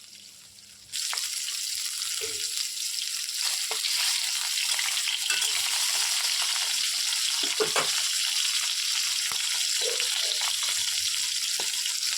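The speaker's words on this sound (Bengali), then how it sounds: "দেখো ইলিশ মাছ ভাজা করছি।" Hilsa fish pieces fry in hot oil, a loud, steady close-up sizzle that starts abruptly and continues unbroken, with scattered small pops and crackles.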